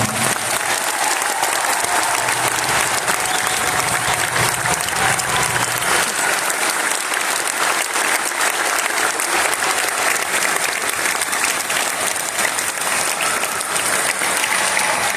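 A large audience at the Royal Nova Scotia Tattoo claps loudly and without a pause, filling the space with dense, sustained applause from start to finish.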